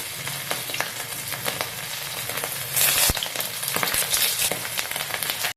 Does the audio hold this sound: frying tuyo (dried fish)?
yes